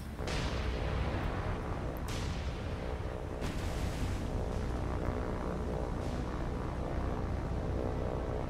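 Dense, rumbling wartime naval battle din in War on the Sea, with droning aircraft overhead and repeated heavy booming blasts layered into a continuous loud roar, with no voices.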